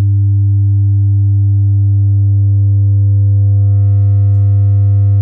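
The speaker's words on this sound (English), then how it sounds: "a lot more noise, a lot more digital distortion happening there" A hard-clipped tone in Logic Pro hums loud and steady, the buzzy distorted note stacked with bright harmonics that grow slightly harsher toward the end, with no voices.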